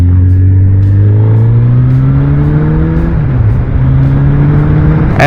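A Suzuki GSX 1300R Hayabusa sport motorcycle engine revs up close, its pitch climbing steadily, briefly dipping as it shifts, then holding a high droning tone.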